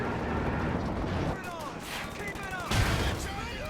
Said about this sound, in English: Sage continuing to spam grenades